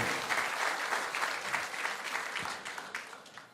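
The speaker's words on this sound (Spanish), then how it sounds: "Dale un fuerte aplauso al Señor" Enthusiastic applause from a church congregation during a sermon, a steady wash of many hands clapping that gradually fades over a few seconds.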